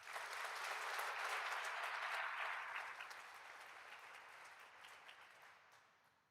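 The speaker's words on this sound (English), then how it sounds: "please give Senator Carrie Rood a round of applause" Steady applause from an audience at a center grand opening, a dense wash of clapping that gradually thins and fades over several seconds.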